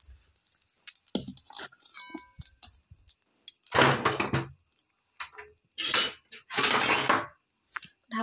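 A lid set over a pan of reheated chow mein in a home kitchen, with metallic clinks, scrapes and a few louder clattering bursts of cookware, close by and with no talking.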